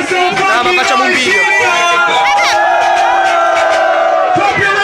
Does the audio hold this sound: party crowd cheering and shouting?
yes